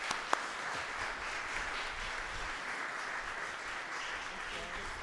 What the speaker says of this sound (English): So please give them a good round of applause.